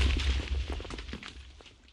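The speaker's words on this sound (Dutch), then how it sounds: "Ik ga Tom met dit kanon lopen schieten." A cannon fires in a blocky pirate video game, a single muffled boom with a low rumbling tail that fades away over about two seconds.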